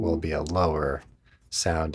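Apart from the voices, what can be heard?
No distinct noise like a dog, phone or traffic.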